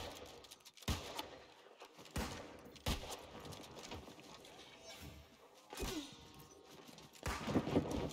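Musket fire in a war video game: several sharp, loud shots at irregular intervals over a busy battlefield din, with distant crackling fire between them.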